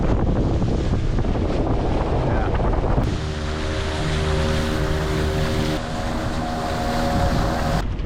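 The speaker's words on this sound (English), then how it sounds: "It's a bit wet and windy." Strong wind roars and buffets the microphone continuously, mixed with an engine's steady hum and splashing water, loud and unrelenting.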